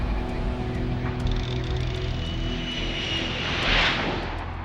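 A 1960s reconnaissance plane flies over the Atlantic, its engine giving a steady, droning roar that swells briefly louder toward the end as it passes close.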